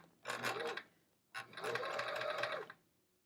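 A sewing machine with a specialty presser foot stitches an envelope pillow case in two quick bursts, a short run and then a longer steady whirr, with a pause between.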